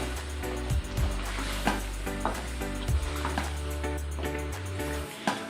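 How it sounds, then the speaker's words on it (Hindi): Marinated chicken fries in a pan with ginger garlic paste, making a continuous close sizzle broken by several clattering stirs and scrapes against the pan. "मैरिनेट किया हुआ चिकन हम इसके अंदर फ्राई करेंगे।"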